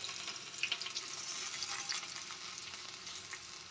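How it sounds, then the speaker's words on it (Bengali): Urad dal fries with onion in a pan, giving a soft, steady sizzle and crackle at low volume, with a few light stirring scrapes and no talking. "ডালটাকে একটু হালকা ভেজে নেব"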